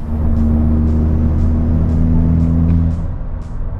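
A Volkswagen MK6 GTI engine fitted with an Integrated Engineering cold air intake idles and hums steadily up close, with a breathy intake whoosh and a low droning tone throughout.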